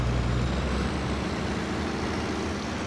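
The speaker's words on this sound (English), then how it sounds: "Another cool thing about this truck is it's got an engine swap in it, and it sounds different." An engine-swapped truck in the SnowRunner video game gives a steady, heavy low engine drone throughout, alone with no talk.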